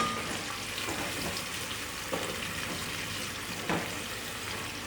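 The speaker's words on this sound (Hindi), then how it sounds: "व्यूअर्स देखें, प्याज हमारा फ्राई हो रहा है।" Onions fry in a pan for a beef and chana dal curry, giving a steady, close crackling sizzle with a few louder spits and bursts of hiss, and no talking.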